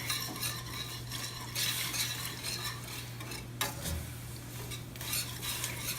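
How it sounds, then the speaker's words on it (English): A whisk stirs a thickening pot pie sauce in a pan, giving continuous scraping and swishing with faint sizzling, close and steady, no voices. "slowly add this in. and whisk it up, and this is going to thicken as we go here"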